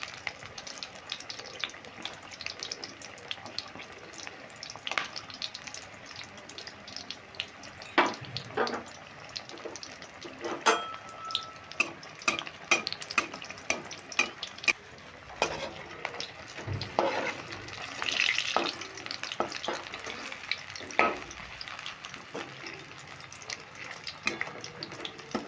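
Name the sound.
chili chops frying in oil, spooned over with oil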